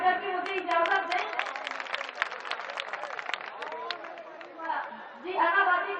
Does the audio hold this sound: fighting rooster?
no